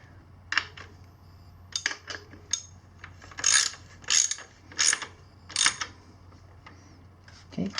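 A hand ratchet snugs up the rear axle of a Sur Ron Light Bee electric dirt bike, making close, crisp bursts of rapid clicking in several separate strokes with short pauses between them.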